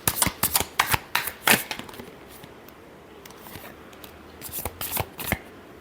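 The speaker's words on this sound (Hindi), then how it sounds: "Last shuffle." Tarot cards being shuffled, a run of crisp close riffling bursts at the start, a quieter gap, then a few more snaps near the end.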